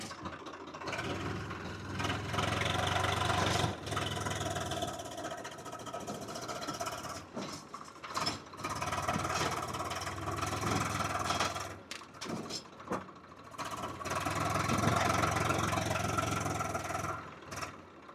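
A tractor engine runs at a steady idle with a low, continuous throb, its level dipping and recovering several times as clunks and handling noises break in around it.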